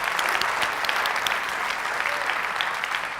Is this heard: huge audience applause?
yes